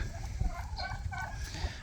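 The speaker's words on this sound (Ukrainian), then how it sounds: "Саме індик." A turkey gobbles nearby, a quick rattling warble repeated a couple of times over a low background rumble.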